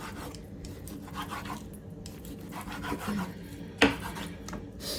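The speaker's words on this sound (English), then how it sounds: "Now I'm gonna cut up my pork." A knife cuts pork into big chunks on a cutting board while pho is being prepared, giving steady scraping and rasping strokes with one sharper chop near the end.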